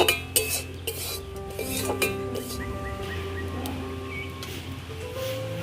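A roasted gram flour mixture for soan papdi is tipped from a pan onto a large plate, with metallic clinks and scraping of utensil against metal, a few sharp knocks early on, and a low background hum.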